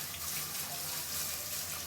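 Water runs and splashes steadily as dry fish is rinsed in a vessel, a continuous soft rush of water close by and fairly quiet, with no talking.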